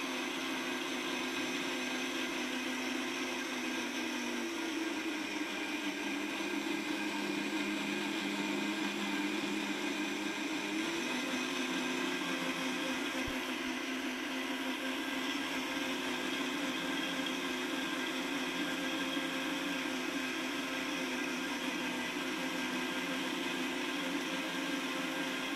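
A blender whirs steadily while it purees green peas, a loud continuous motor drone with a slight shift in pitch partway through and no pauses.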